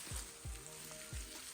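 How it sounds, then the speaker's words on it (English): Food stir-fries in a pan for a peri-peri jollof rice dish, a constant close sizzle broken by three soft thumps of stirring. "Now I've been stir frying this for about 10 minutes."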